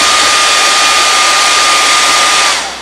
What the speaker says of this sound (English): We'll give it a little shot with the hair dryer.